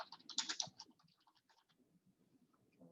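Quick typing on a computer keyboard, a dense close burst of key clicks followed by a few softer, scattered taps.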